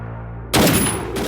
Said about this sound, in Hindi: सर ने गोली चला दी।